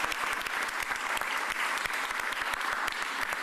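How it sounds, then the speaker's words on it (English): Audience applause at a Philadelphia civic event, dense steady clapping from a crowd sustained throughout, fairly loud and even with no talk over it. "Big round of applause."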